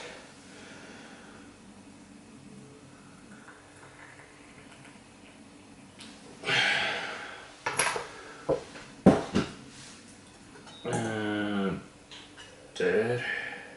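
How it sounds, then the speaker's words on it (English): Qimen tea from Huang Shan, Anhui being rinsed in teaware: a faint pour gives way to several clinks and taps of porcelain lids and cups, with splashy water bursts near the end. "Let's rinse the tea."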